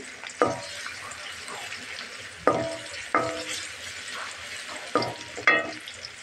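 Chopped onion fries in oil until brown for a cabbage stir-fry: a steady close sizzle broken every second or two by sharp stirring scrapes against the pan, with no voice.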